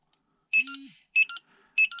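A budget LDARC CT01 car and tank radio transmitter sounds its startup alarm as repeated pairs of shrill electronic beeps, three double bursts in two seconds, close and clear, with a brief rising tone after the first pair.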